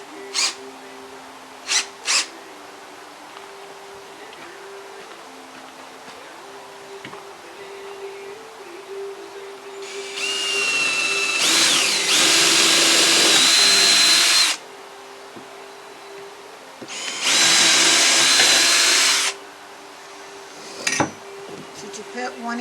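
Power drill boring holes into old picnic table wood during a repair, two sustained bursts of whining drilling a few seconds each, with sparse knocks and light handling noises between them.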